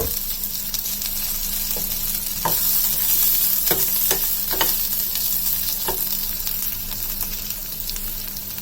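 Grated coconut and chopped tomato frying with translucent onion in a pan for a brinjal curry, a loud continuous sizzle with repeated spoon scrapes and taps against the pan while stirring, close up and without speech.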